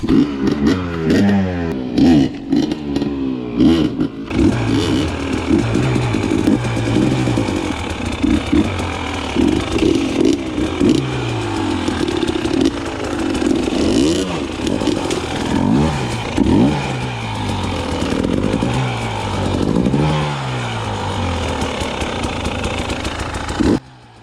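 A dirt bike engine revs and bogs continuously while riding a tight, overgrown hard enduro trail near Wildcat Pass, Phoenix, Arizona, loud and close with repeated throttle surges and drops throughout, no talking.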